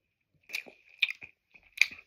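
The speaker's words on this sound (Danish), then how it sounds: "Mens jeg nu sidder og spiser min slik" Close-up chewing of Bosnian candy: three separate bursts of wet, squishy bites and munching with quiet gaps between them, heard alone without talk.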